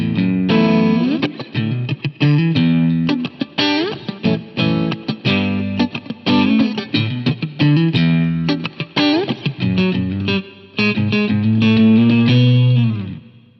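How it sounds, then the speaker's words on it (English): Electric guitar played through a Fender Deluxe amp model with reverb, a clean but slightly driven tone, busy picked phrases and chords ringing out, ending on a sustained bend. "We're going to start off with a Fender Deluxe model with some reverb."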